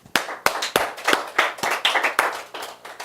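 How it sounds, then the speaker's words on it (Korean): Applause from a church congregation during a sermon, a burst of clapping from several people with sharp hand claps in an irregular rhythm, fairly close and loud, lasting about three seconds with no talk over it. "한번 박수합시다"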